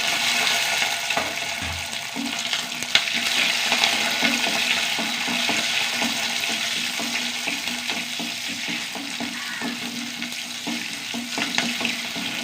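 Dried red chillies and curry leaves frying in hot oil with a steady, close sizzle and crackle throughout, without speech.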